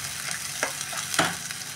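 Rajma masala sizzles and spatters in a pan as water used to rinse the mixer goes in, with sharp hissing bursts and stirring scrapes over a low frying crackle.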